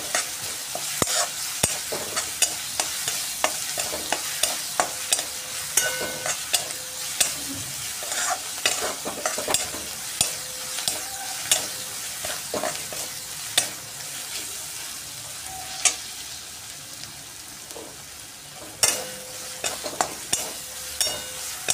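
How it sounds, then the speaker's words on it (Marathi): Ginger, garlic and coriander paste fries in oil for a cashew curry, giving a steady close sizzle. A spatula scrapes and clinks against the pan in an irregular rhythm throughout, with no talk. "ते पण तेलावर आपण लसणाचा कच्चेपणा कमी होईपर्यंत"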